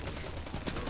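Auto rifle fire in the video game Destiny 2 during an Iron Banner match, a dense, continuous rattle of rapid shots filling the whole second at steady loudness.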